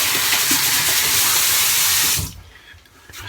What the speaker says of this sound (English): Let me wet my face.